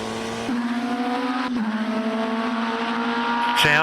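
Race car engine in a video game holding a steady high-pitched drone that dips briefly mid-clip, with a tire squeal at the very end, fairly loud and with no talk over it.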